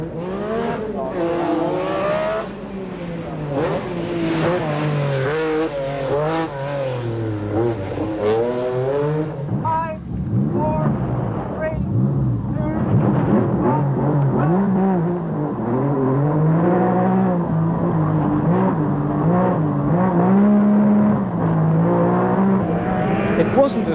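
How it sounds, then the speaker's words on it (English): Rally cars, including a Porsche 911, race around a tight little circuit at the 1986 Circuit of Ireland Rally, engines revving and rising and falling in pitch as they accelerate, brake and corner, loud and close under commentary. "He and McRae returned identical times around the tight little circuit"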